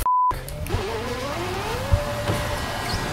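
A car spinning out in a racing video game, with a continuous engine whine and rising, sliding tire squeal that carries on steadily throughout, loud and close, after a brief electronic beep at the start.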